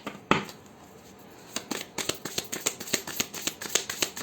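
Tarot cards being shuffled by hand, a soft flutter followed by a steady run of quick, close riffling slaps with no talking.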